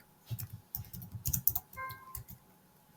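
Someone taps out short irregular bursts of keystrokes on a computer keyboard nearby, the clicks clustering then pausing, with a faint electronic tone briefly sounding partway through.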